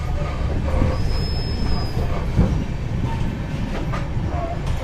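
Indian passenger express running Purna to Pune through Selu station, its steady rumble and clickety-clack of wheels with a brief high squeal, heard close and continuous with faint crowd murmur.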